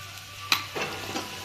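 Masala with turmeric and black masala crackles in a pan, with a sharp scrape at one point and then soft sizzling scrapes as the spices are stirred close up, quiet and brief, with no talking.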